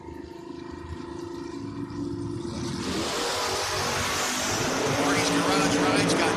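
A door car in a drag race round idles and burbles, then erupts into a loud, sustained roar as it launches hard and keeps pulling at full throttle to the end.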